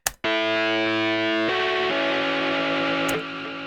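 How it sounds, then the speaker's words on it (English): Synth melody notes run through a distorted stereo delay effect, sustained buzzy tones stepping in pitch with echoing repeats, loud and close without any voice. "Stereo delay is one of my favorite effects because it basically adds these cool bouncy contrails to whatever note you play."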